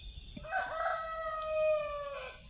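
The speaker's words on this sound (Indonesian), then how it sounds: "suara ayam jago saling bersautan." A rooster crows once, loud and close, a long drawn-out call over quiet night air in a village in Jonggol where roosters answer one another.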